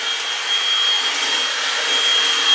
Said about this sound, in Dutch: En Roos is even aan de stofzuiger.